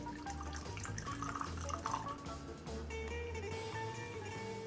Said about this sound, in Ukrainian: Трішки наливаємо, небагато.